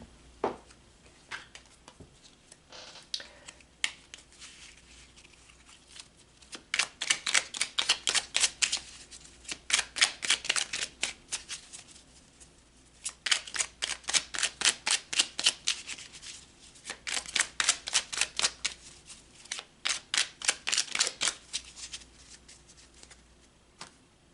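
Tarot cards riffle-shuffled in repeated bursts, a crisp rapid fluttering with short pauses between rounds and soft handling sounds in the gaps, close and fairly loud with no talking.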